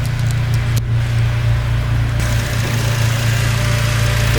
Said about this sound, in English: So that's the engine bay running.